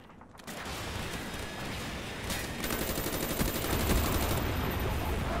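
Sustained automatic fire from a Galil rifle in Call of Duty Black Ops multiplayer, a dense, loud rattle of rapid shots that builds and continues throughout, close and dominant with no talking.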